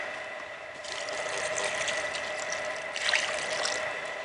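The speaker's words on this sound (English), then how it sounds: "I'll go ahead and knock this off and pour some water on it." Water poured from outdoors onto a burning cabbage palm stem beside dry brush, a steady close trickling splash with a brief louder burst near the end.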